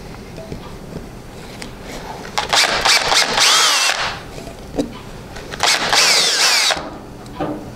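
Power drill widening small pre-drilled 1/8-inch holes in a 1980s Craftsman rolling tool chest. Two loud, whining bursts of drilling each last about a second or two, with quieter handling noises between them.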